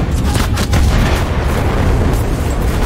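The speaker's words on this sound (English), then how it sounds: "you can't hear anything over the constant fucking artillery and the constant bombs" Artillery and bomb explosions rumble nonstop in the Enlisted war game, dense overlapping booms forming a loud continuous barrage with sharper bursts poking through.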